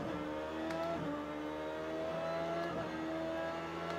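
A race car engine in a sim racing game drones and revs steadily down a long straight on the final lap, quiet and continuous with faint shifts in pitch.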